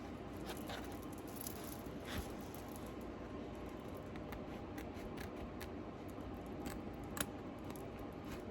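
Scissors snip along the outer edge of an embroidered sublimation patch, a steady run of small, close clicks and crisp cuts over a soft background hiss, with one sharper snip standing out near the end.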